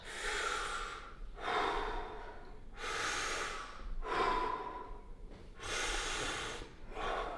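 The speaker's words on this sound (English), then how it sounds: "you're breathing through your mouth" Deep breathing through the mouth during a fascia exercise: five or six slow, heavy breaths, each a long airy whoosh separated by brief pauses, close and clear with no talk.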